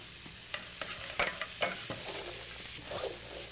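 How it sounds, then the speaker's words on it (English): Chopped onion caramelizing in a pan for a Savoy cabbage dish, a steady soft sizzle broken by several sharp clicks and scrapes of a utensil stirring, with no talk. "You kind of want to just caramelize the onion just a little bit, release those sugars out of the onion"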